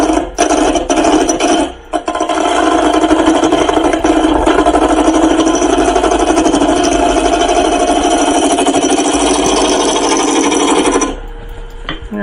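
Wood turning lathe with a tool plunge cutting into spinning wood, a loud continuous rasping cut with a brief break near the start, then the motor hum alone after the tool lifts.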